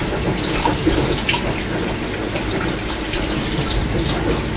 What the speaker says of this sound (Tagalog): So hugasan lang natin yung scallop.